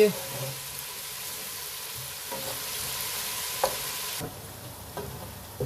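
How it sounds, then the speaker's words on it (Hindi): Ginger garlic paste frying in a pot for mutton nihari, a steady broadband sizzle with a few stirring clicks and scrapes, close and continuous throughout. "ये हमने सिर्फ हल्का सा फ्राई करना है, बस इसकी खुशबू आनी चाहिए।"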